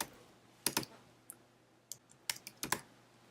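A file name is typed on a computer keyboard: quiet, sparse clusters of close key clicks in short bursts separated by pauses, in an otherwise still room.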